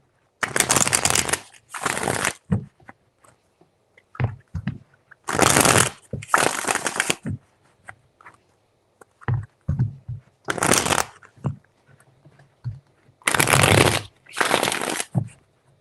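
Tarot cards are shuffled in crisp, riffling bursts, about six separate shuffles separated by short pauses, with soft handling taps between them.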